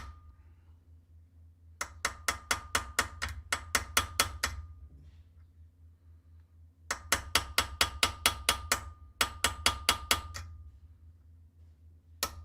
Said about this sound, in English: Small little hammer.